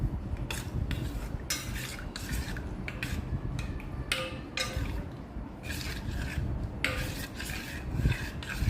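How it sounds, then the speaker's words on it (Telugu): A spoon scrapes and clinks steadily against a bowl, stirring sugar and cardamom powder into milk for egg junnu, with rhythmic metallic rubbing strokes over a low background rumble. "ఇప్పుడు రెండింటిని కూడా బాగా మిక్స్ చేసి మిల్క్లో కలిసేటట్టు బాగా కలుపుకోవాలి"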